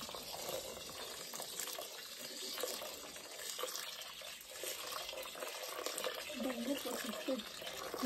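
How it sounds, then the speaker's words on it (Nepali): Water is poured into a pot for cooking rice in a home kitchen with a coal fire, a steady gushing fill at low level, while people talk nearby. "पानी कति हाल्नु हेर्नु त"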